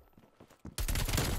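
An AK rifle firing in a search-and-destroy round of a video game shooter, opening as a sudden loud continuous burst after a quiet stretch of faint footsteps and small clicks.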